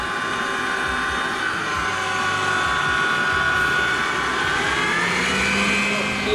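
Electric mixer whipping egg whites for macarons, a steady loud whirring drone that holds throughout with a rising whine near the end.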